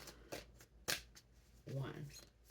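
Tarot cards being shuffled, giving brief papery riffles and taps, with a voice speaking softly partway through.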